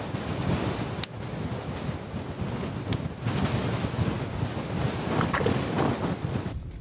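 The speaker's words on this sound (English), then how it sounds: "So we're definitely dealing with a windy day here." Strong wind buffets the microphone in a constant roar while ice fishing at Antero Reservoir, with surf-like rushing and a couple of sharp clicks, no voices.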